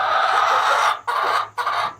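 Hens clucking and chattering inside a backyard chicken coop, a steady close chorus of calls with two brief pauses before resuming, no talking.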